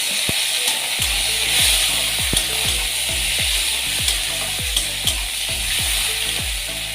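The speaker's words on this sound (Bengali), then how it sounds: "পেঁয়াজটাকে ভালো করে ফ্রাই করে নেব।" Chopped onions fry in oil with black cumin, giving a loud, constant sizzle with a regular run of stirring knocks from a spoon against the pan.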